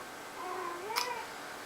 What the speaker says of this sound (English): Oh, my cat, honestly. Every time I film during the day, Millie, it's crazy.